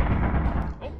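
Rapid, dense turret gunfire from Lethal Company, a loud continuous rattle of shots that stays steady for most of the second before briefly dipping near the end.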